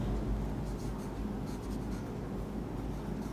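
Marker or chalk scratching across a classroom board in short repeated strokes during an English grammar lesson, steady and close with a faint room background.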